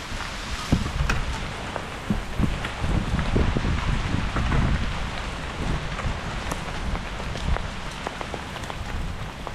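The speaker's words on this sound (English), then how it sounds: "It's hailing. Check this out." Hail and heavy rain pelt the surface around a stealth camping spot, a dense, irregular patter of sharp impacts with gusts of wind, close and loud throughout, with no talking.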